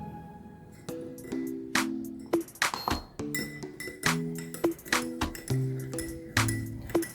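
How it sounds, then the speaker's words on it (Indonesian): A spoon stirs urea fertilizer dissolving in water inside a glass, making repeated bright clinks and pings against the sides in an uneven rhythm of taps, each ringing briefly, close and clear with no voices. "kita akan mengaduk urea dengan mengukur waktunya"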